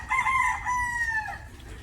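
A rooster crows near a front porch: one clear, fairly close cock-a-doodle-doo lasting over a second, over a low background rumble.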